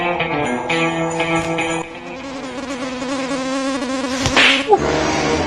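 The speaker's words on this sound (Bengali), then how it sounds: "মশার যন্ত্রণায় ভাল লাগে না।" Mosquitoes whine in a thin, steady buzz close to the ear indoors near a television, with a sharp slap-like knock near the end.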